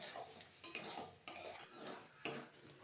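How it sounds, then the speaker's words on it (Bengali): A spoon stirs fish curry masala with cashew paste in a pan, with soft scraping strokes and a few sharper knocks against the metal over a faint sizzle, quiet and close. "এবার ভালো করে কষিয়ে নেব মশলাটার সঙ্গে"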